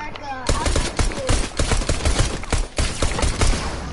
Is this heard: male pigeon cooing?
no